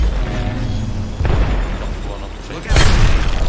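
A grenade goes off in Apex Legends as a loud boom over sustained game noise, with a second heavy burst near the end and a voice talking over the action.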